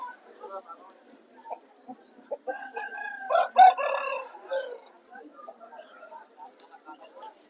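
A rooster crows once, fairly close, at a rooster market in Vijayawada, amid quiet background chatter and a few soft clucks.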